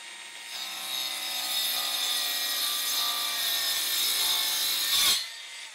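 A cheap angle grinder bites into wood with a steady, harsh rasping whine for about five seconds, rising briefly near the end before stopping abruptly; no one speaks.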